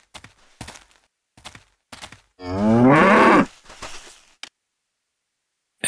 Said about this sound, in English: Inside the barn are just these foul-smelling and dumb-looking oxen.